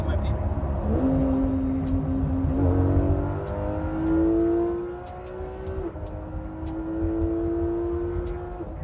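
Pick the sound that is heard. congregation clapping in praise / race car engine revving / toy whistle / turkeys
race car engine revving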